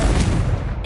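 Confringo blasting spell going off in Hogwarts Legacy, a dense, loud, booming burst with rumbling low end that fills the whole short moment.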